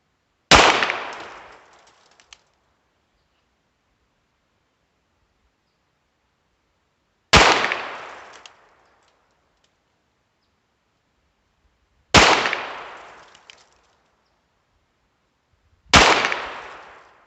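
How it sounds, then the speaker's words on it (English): Four sharp, loud gunshots from a Ruger Wrangler birdshead revolver fired at an outdoor target, each a crisp crack with a short decaying echo, spaced several seconds apart. "we're going to put the first shots with the Ruger on the right hand target"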